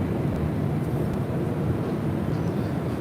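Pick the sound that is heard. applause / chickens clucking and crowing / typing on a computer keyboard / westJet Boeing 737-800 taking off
westJet Boeing 737-800 taking off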